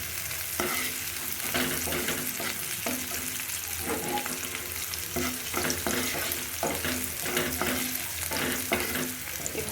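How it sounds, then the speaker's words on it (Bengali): Curry ingredients for an ash gourd and country chicken curry fry steadily in a pan, a dense sizzle with repeated knocking and scraping strokes of a spatula; near and alone, without speech. "ভেজে নিচ্ছি।"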